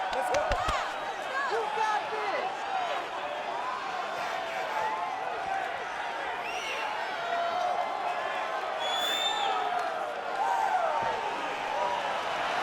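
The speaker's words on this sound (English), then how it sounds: "I'm not sure I have ever heard a louder crowd in any arena in the world" A large arena crowd in a UFC 5 video game fight roars and murmurs steadily throughout, with scattered shouts and squeaks, while a commentator talks over the din.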